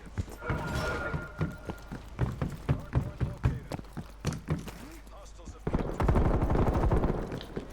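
Bursts of Type 63 tactical rifle fire in Call of Duty Cold War, rapid sharp shots in uneven clusters, with a denser stretch of firing near the end, heard loud and close with talk over it.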